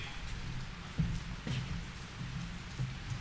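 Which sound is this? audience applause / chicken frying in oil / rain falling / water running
rain falling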